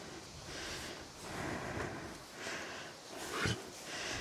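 Quiet snuffling and short nasal sniffs from a dog close by, repeated in soft bursts, with one sharper snort partway through.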